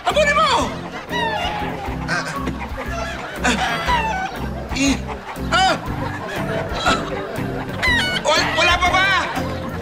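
An escaped chicken clucks and squawks repeatedly in a chaotic scene, its calls loud and close, mixed with excited shouting voices throughout.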